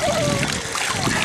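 Child splashing in shallow sea water at a beach, a short burst of splashes and sloshing close by while someone talks and a voice is faintly heard.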